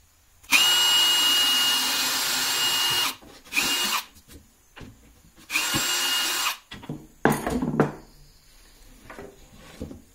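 A power drill bores a hole into a wooden jig in several close, loud bursts of high whine, with short pauses and a few clunks of handling between runs.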